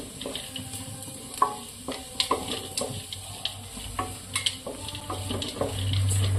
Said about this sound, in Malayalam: നല്ലതുപോലെ ഒന്നും കൂടെ വഴറ്റിയെടുക്കാം കേട്ടോ